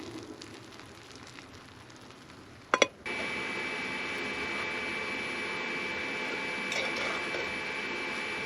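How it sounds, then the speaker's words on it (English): A power inverter running an electric rice cooker at a campsite switches on after a quiet stretch and a sharp click, then holds a steady electrical hum with a faint high whine, continuous and moderately loud. "That way the inverter stops making noise"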